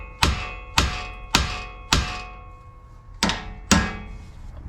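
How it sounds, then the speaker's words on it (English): Hammer taps on the lower control arm of a 2007 Honda Odyssey, working it loose: six sharp metallic thunks in an uneven rhythm, close and loud with ringing decay. "Now we're going to tap it here a couple times with the hammer"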